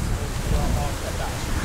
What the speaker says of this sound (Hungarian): Na most fúj a szél.